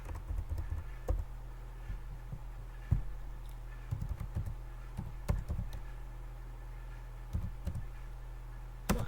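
Steady keyboard typing, quick irregular clicks and taps over a low constant hum, close by with no voices.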